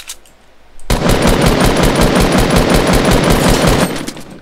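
Sustained rapid automatic fire from a light machine gun in the video game Fortnite, a loud continuous burst of closely spaced shots lasting about three seconds after a quiet start.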